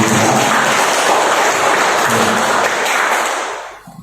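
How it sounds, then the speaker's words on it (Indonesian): Audience of teachers and guests at a school presentation applauding together, a dense, loud burst of clapping that holds steady for about three seconds and then fades out quickly. "kami mohonkan dulu tepuk tangan dari Ibu Bapak semua"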